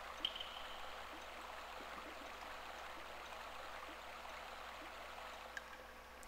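Water flows inside a flooding tower in the Grandia video game, a faint, steady stream-like rush with a low background hum and no talking.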